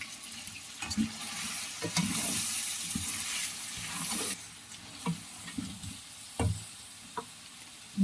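A spoon stirs whole cumin and ground coriander into chicken pulao in a hot pan: steady sizzling frying with repeated scraping strokes close up, and no voices.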